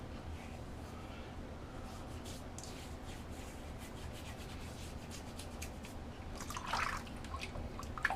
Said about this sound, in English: There's so much nice frothy lather in the bowl.